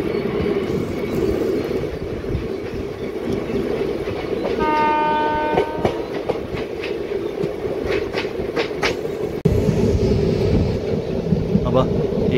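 A WAP-4 electric locomotive hauls the Pinakini Super Fast Express, a steady loud rumble of wheels with clacking rail joints, a horn blast sounding midway, and a voice talking over the noise.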